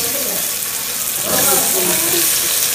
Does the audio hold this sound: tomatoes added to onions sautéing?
yes